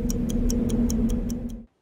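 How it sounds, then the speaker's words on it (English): Watch ticking used as an example of a ten-decibel sound, a steady run of about eight sharp, evenly spaced ticks over a constant low hum, cutting off abruptly at the end. "10 decibel watch ticking,"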